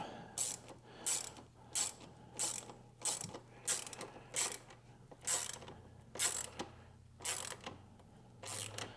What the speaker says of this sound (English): I'm going to tighten through the nylock nut.